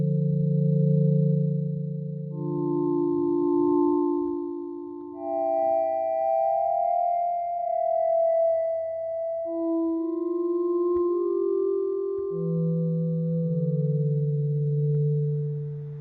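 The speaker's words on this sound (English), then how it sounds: "It's a pad sound using those modulations that I described a while ago." A soft, sustained analog synth pad from Ableton Live's Analog instrument, with vibrato modulation, glides through a slow series of held notes that shift between low and higher pitches, smooth and steady, with no voices.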